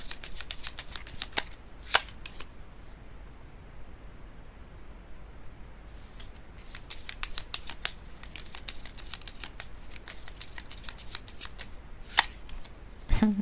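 Tarot cards being shuffled and drawn, close riffling and slapping bursts at the start and again later, with a quieter stretch between and no talking.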